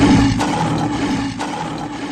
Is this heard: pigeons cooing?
no